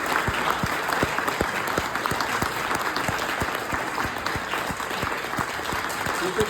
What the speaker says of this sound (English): Can we give a massive round of applause to the Northamptonshire County Horn Ensemble?